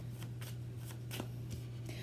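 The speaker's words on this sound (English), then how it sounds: "I got a yes already, but let me just shuffle better." Tarot cards being shuffled in quick riffling bursts, several brushing swipes over a steady low hum, close by.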